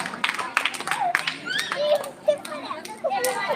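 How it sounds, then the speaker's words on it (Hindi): Applause and claps from an audience at a school annual function, welcoming young girl performers, mixed with children's voices and chatter; the clapping is scattered and fairly close, running under the shouts throughout. "एक बार जोरदार तालियों से स्वागत कीजिए इन बच्चियों का।"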